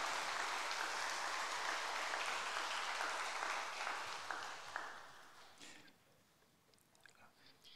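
Church congregation giving a loud, sustained round of applause to welcome a guest pastor at a regional revival meeting, dense clapping for about five seconds before thinning out and fading to scattered claps.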